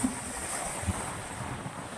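Sea waves washing in at Givat Olga beach in Israel, a steady, even wash of surf mixed with wind rumble across the microphone, with no voices.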